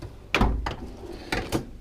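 Metal toolbox drawers holding gaskets and spare parts slide and thunk shut, two pairs of sharp knocking impacts about a second apart, close and fairly loud over a quiet background.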